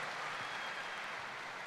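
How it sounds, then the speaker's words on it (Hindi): Audience applause at a business event for a business leader, a short, soft, dense wash of clapping from a crowd that is steady across its brief length. "जोरदार तालियां हमारे बिजनेस लीडर प्रदीप मिश्रा जी के लिए"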